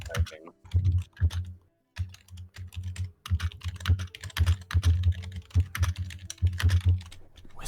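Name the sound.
typing on a loud mechanical keyboard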